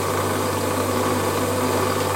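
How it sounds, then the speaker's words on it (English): A Warco WM180 lathe facing off a part with a 45-degree tool gives a steady, close motor whine and cutting hiss that holds unbroken for a couple of seconds. "I've got a little 45-degree tool in here which will actually face."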